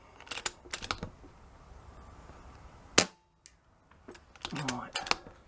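Air rifle with an adjusted hammer spring fired outdoors on a farm field: several sharp, isolated cracks spaced apart, one especially loud and close, with quiet pauses between.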